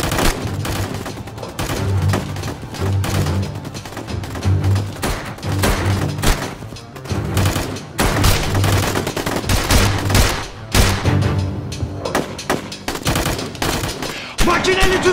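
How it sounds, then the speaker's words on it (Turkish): Machine gun fire rattles in a TV drama battle scene, loud rapid bursts and single shots repeating in uneven waves, with shouting voices mixed in. "Makineli tüfek yere yatın!"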